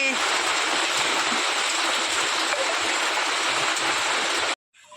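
Heavy rain pours down steadily and loudly as a dense, continuous wash of falling water, then cuts off abruptly near the end.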